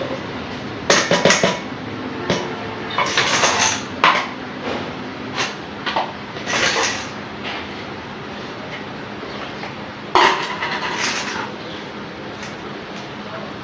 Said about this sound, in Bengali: এটাকে ভালো করে ঝাঁকিয়ে নিতে হবে এখন আমি এগুলো এখানে ঢেলে দিচ্ছি